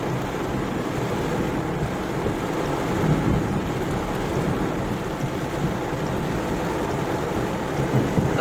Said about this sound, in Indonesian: Ngeri hujannya, guys. Hujan petir.